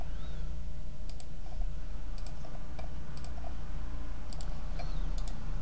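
A computer mouse clicks while someone works in 3ds Max, giving a few sharp, close single and double clicks spaced out over a constant fan-like background hum.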